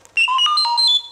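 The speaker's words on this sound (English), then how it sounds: "You will know it is time to turn the page when you hear R2-D2 beep like this." R2-D2 from Star Wars lets out a short, clear burst of electronic beeps and warbling chirps, heard loud and alone as the page-turn signal on a read-along record.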